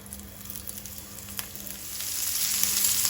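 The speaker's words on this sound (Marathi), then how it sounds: "तेल तापलें तशें तातूंत आमी सुंगटां घालुया।" Rava-coated prawns hit hot oil in a Goan tawa fry, giving a close sizzle that builds louder and brighter over a few seconds, with small crackling pops and no voices.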